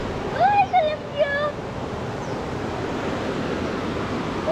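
Tamugan River near the Apo Aqua Dam rushing steadily, a continuous broad watery hiss heard close, with a voice speaking briefly over it early on.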